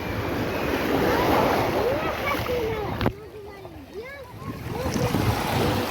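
Sea waves wash in at a five-star hotel beach, a broad surging hiss that swells and fades, with faint voices drifting over the water.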